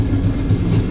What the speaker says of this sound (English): What a train this is. This is unchanged since Soviet times, this train.